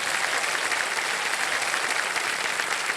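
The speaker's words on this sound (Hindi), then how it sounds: "तालियां बज जाए इनके लिए" A television quiz-show studio audience applauds steadily for a contestant's elder brother on Kaun Banega Crorepati, a dense, even clapping that holds at a constant level for the full three seconds with no voices over it.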